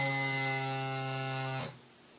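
A SKLZ workout interval timer gives a loud electronic buzz as it powers on, one harsh tone dropping slightly in level partway through before cutting off abruptly.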